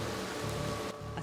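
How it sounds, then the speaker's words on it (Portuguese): Heavy rain pours in a steady, dense hiss over a flooded city street in the capital, with a constant low rumble underneath and no voices. "Ontem, na capital, foi o maior volume de chuva do ano."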